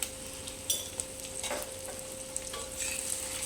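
Spices being stirred into a potato curry with tamarind water, salt and coriander powder in a pot, a soft bubbling sizzle with a few spoon scrapes and clinks, fairly quiet and close.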